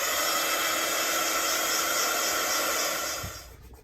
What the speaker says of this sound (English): let me give that a quick blast with the heat gun